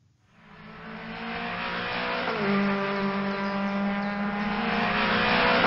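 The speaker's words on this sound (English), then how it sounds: "At the go-kart track." A go-kart engine drones steadily at a track, rising in pitch as the kart accelerates past and holding a loud, continuous whine without any talk.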